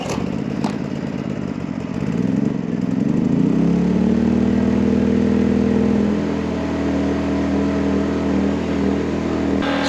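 WEN 56235i inverter generator starting up after sitting about a month, the small engine catching and settling into a steady loud running drone with a rising tone, close by, no talk.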